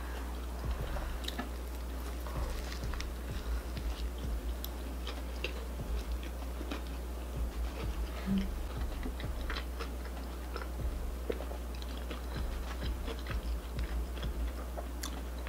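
Close-up chewing of a Chick-fil-A chicken sandwich and fries, with steady soft crunching, smacking and small wet clicks continuing throughout over a low constant hum, no talking.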